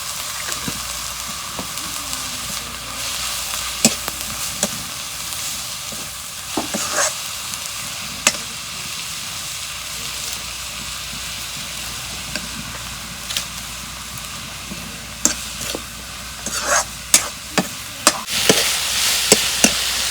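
Turmeric, dried chili powder and salt sizzle and fry in a clay pot over an earthen stove while being stirred for an egg curry. Steady frying hiss runs throughout, with sharp scraping stir strokes recurring, close and clear, with no talking.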